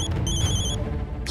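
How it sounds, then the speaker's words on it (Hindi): A telephone rings in a Hindi TV serial scene, a short electronic ring burst near the start over a low background murmur, brief and clear. "ये देखिए फिर से फोन आ रहा है।"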